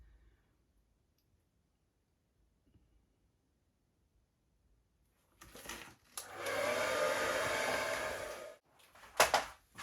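After several seconds of near silence, a hair dryer switches on and blows steadily for a few seconds, then cuts off with clicks, in an art studio.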